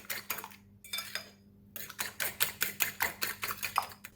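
Egg and minced pork are beaten together in a bowl, a quick run of rhythmic clinking strokes of utensil against the bowl, briefly pausing then resuming in an even, close, steady beat.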